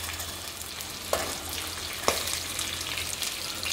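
Hyacinth beans with carrots and potatoes sizzle steadily in a hot pan, with two sharp scraping stirs of a spatula cutting through the quiet, continuous frying hiss.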